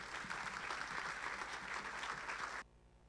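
Church audience at an Evangelical congregation gives a speaker a steady round of clapping, a dense, even wash of applause that stops abruptly near the end, leaving near silence.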